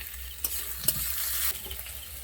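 Okra frying in a pan is stirred with a spatula, a close steady sizzle broken by a few soft scraping knocks over a couple of seconds.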